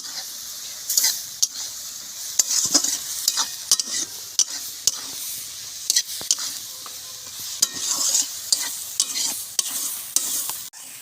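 Spices sauté with chili and turmeric in a pan for a drumstick-flower dish. A bright, close sizzle runs continuously, punctuated by sharp scrapes and clacks of a spatula stirring against metal.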